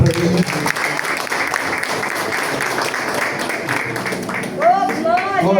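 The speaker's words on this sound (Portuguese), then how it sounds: "Dá uma salva de palmas para ele." Church congregation applauding in praise during a worship service, a dense wash of clapping and cheering that runs the whole time, with voices and a singing or shouting voice rising near the end.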